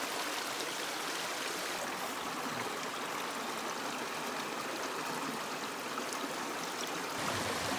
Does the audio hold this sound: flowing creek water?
yes